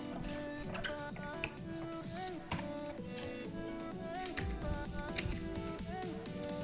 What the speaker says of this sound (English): And then I'm going to run that through my die cutting machine.